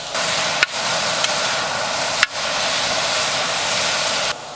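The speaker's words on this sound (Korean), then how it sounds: "야채를 다진 마늘이랑 같이 볶아주세요" Vegetables and minced garlic sizzle and hiss in a pan while being stir-fried at a campsite, a loud, steady frying noise with a few sharp clacks of utensil on pan.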